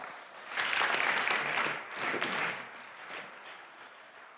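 An audience at a school competition applauds, a dense wash of clapping that swells, eases, briefly rises again, then tapers off.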